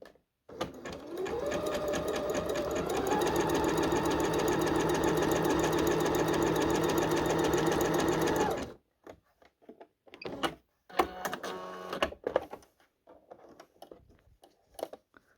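A Pfaff Passport 3.0 sewing machine stitches in a fast, steady mechanical whir for about eight seconds, then gives a few short bursts and clicks, close by and loud.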